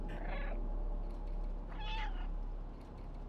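A cat meows twice in the video game Stray, clear and fairly close over steady ambient game background noise.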